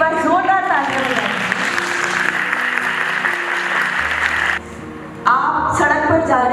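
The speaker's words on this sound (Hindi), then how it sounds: "हमारे आज के एक्सपर्ट के लिए एक बार जोरदार तालियां बजाएं।" Attendees at a motivational training camp in Agra clap loudly for the day's expert, a dense round of applause over lingering speech that cuts out abruptly near the end before voices resume.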